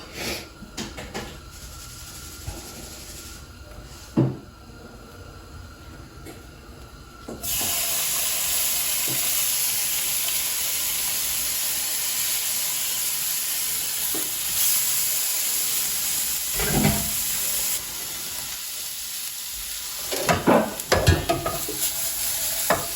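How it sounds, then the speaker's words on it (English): Prawns sizzling in a very hot pan, a loud steady hiss of frying with stirring and scraping, close up and without talk. "We wait until the pan is really hot and then we add the prawns."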